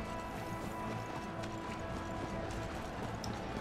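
A horse's hooves clip-clop in the video game Wo Long: Fallen Dynasty, a faint, steady stream of hoofbeats under a dense game soundscape.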